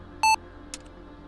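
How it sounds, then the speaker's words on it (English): A short electronic warning beep sounds once in the Reentry space flight simulator game, signalling that the retrograde engines are about to fire, followed by a faint blip over a quiet background hum. "an audio tone warns that the retrograde is about to fire"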